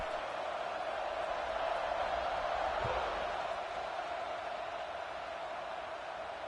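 Stadium crowd cheering in a college football video game around a kickoff: a steady, dense roar with no sharp peaks that holds at an even level throughout.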